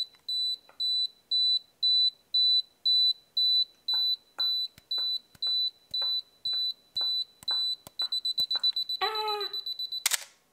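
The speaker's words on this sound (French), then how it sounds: "on peut aussi stopper le retardateur en cours de bip" A Canon AE-1 Program camera's self-timer beeps in an even rhythm, about a dozen close, clear tones that speed into a rapid run before the shutter fires, with soft clicks among them.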